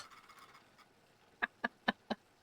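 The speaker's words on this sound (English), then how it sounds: "Turkey noises." Four short, honking gobbles from turkeys in the EverQuest II video game come in quick succession after a faint, murmuring stretch, fairly quiet and close.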